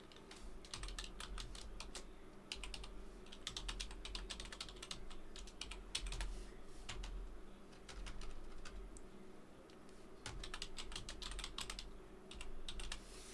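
Quiet typing on a computer keyboard as a website URL is entered: bursts of quick, light key clicks with short pauses, soft pigeon cooing in the background, no talking.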